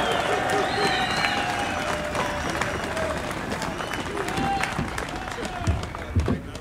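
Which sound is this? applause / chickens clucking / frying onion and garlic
applause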